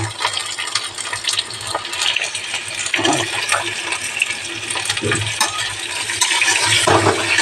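Pumpkin pieces frying in a pan with pointed gourd and potato already browned, a dense continuous sizzle and crackle with occasional clinks and stirring scrapes, close and fairly loud throughout.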